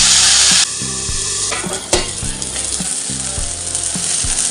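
Salted, turmeric-coated bitter gourd frying in hot oil in a home kitchen, a loud, steady crackling sizzle that drops slightly after a moment, with low mechanical hum and occasional clinks of a utensil, no voices.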